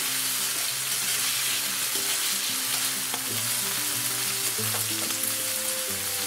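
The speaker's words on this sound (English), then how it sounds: "This is our garlic. We put next our onion." Garlic and onion sauteing in a pan for chayote, a steady close sizzle with occasional stirring scrapes, while background music plays underneath.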